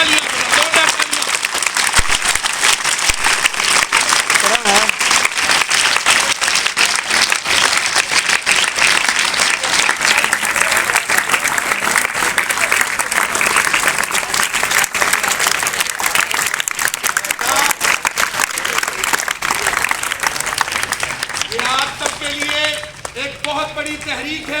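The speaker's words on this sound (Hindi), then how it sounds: "जोरदार तालियां, जोरदार तालियां।" Loud, sustained applause from a seated audience welcoming the SP of Model Town back to his old school, a dense roar of many clapping hands that tapers near the end as a voice begins speaking.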